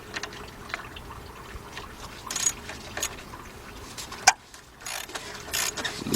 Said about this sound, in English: I have my extension, and I have my quarter ratchet.